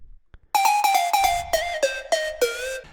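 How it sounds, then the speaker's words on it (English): A synthesized flute-like lead from the 3X OSC synth in FL Studio plays about eight short breathy notes in a quick, slightly descending run, clear and alone. "I also made some noise now, some flute noise."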